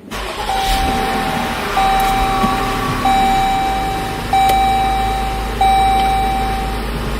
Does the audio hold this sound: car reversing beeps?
yes